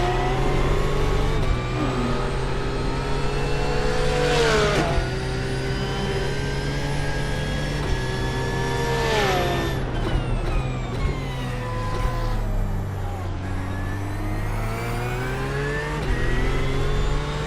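BMW GT3 race cars scream past in the iRacing sim, with high revving engine tones rising and falling in pitch as each car approaches, passes and gear shifts, loud and continuous without talk.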